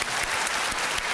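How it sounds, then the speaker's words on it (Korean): A packed hall of students at a youth concert-lecture breaks into continuous applause, many hands clapping together in a bright, steady wash with a few sharper claps standing out. "박수 한번 보내주세요, 여러분."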